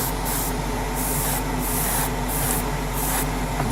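Spray paint misting light coats onto 1:12 scale model motorcycle fairings, a series of short hissing bursts about half a second apart, close and steady over a faint background hum.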